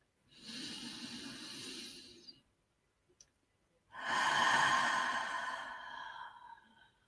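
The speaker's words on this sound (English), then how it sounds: "Nice, big, deep breath in." A deep guided-meditation breath: a long, close inhale of about two seconds, a brief pause, then a fuller, louder exhale lasting nearly two seconds, with no talking.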